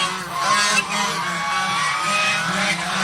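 Adult geese honking continuously at a small goose hatchery where eggs are being incubated, a dense, nasal chorus of several birds close by, steady throughout.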